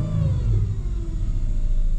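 A car engine idles steadily nearby with a deep, continuous rumble and a faint whirring tone that sounds slightly off, and no one speaks.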